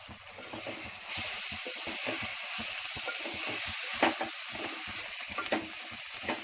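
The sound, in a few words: coriander and spice mix being roasted in a pan for kothimbir vadi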